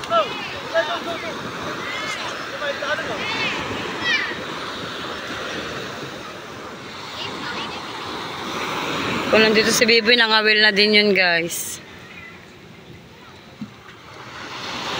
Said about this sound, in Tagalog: Kakatakot ang alon.